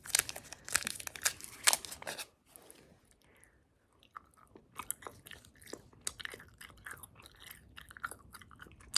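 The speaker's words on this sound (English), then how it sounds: "I'm gonna try to chew a little bit of this and maybe blow some bubbles." Close, wet chewing of Bubble Yum bubble gum with soft smacks and crinkly clicks in irregular bursts, a brief quiet pause around the middle, then continued steady mastication with no talking.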